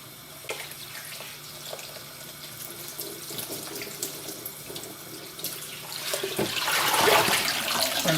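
Cold water runs from a kitchen tap into a bowl for blanching peas, a steady close splashing flow that grows louder and fuller near the end.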